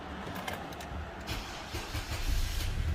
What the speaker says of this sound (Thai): ทดสอบสตาร์ทนะครับอย่าเบรกนะครับ กดปุ่มสตาร์ทนะครับ